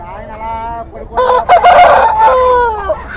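Country chickens at a village poultry market in Nallapadu crow and cluck loudly, with a rooster's drawn-out cock-a-doodle-doo rising over other fowl calls nearby in a short busy burst.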